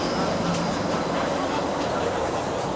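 A Disneyland monorail train passes, producing a steady, loud rumbling roar of wheels and motor with a dense noisy wash and no break, amid outdoor crowd ambience.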